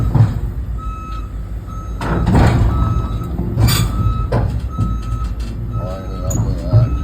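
An excavator climbs a ramp onto a trailer while its heavy engine rumbles steadily. Repeated tonal reversing beeps, a few clanks and squeals of tracks on metal, and occasional brief voices come through.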